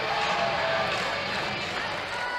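A college softball crowd at a Georgia vs Florida game murmurs and grumbles restlessly in a broad, sustained wash of voices, with a commentator talking over the noise.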